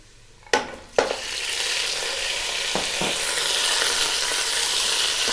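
Mutton for yakhni pulao goes into a hot pot and is stir-fried, with a couple of sharp clanks at the start followed by a strong, steady sizzle that swells and holds.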